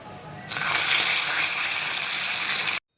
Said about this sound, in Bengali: চিনিটা গলে গিয়ে এটা যখন লালচে হওয়া শুরু করবে তখন এর মধ্যে জল দিয়ে দিচ্ছি